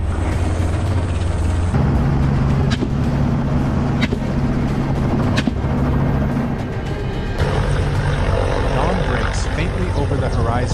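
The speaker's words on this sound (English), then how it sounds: "The helicopter gently vibrates as it carries us into the sky." Helicopter engine and rotor drone, loud and steady throughout while lifting off and flying, with a shifting whine as power changes.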